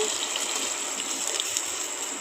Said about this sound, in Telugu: ఎంతవరకు రసం కావాలో అంత క్వాంటిటీ ఆఫ్ వాటర్ వేయాలండి